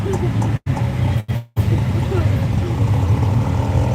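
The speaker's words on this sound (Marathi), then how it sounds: "ट्रॅफिक आहे" Continuous road traffic rumbles steadily near a vehicle, a low droning engine and road noise with brief dropouts, while people talk over it.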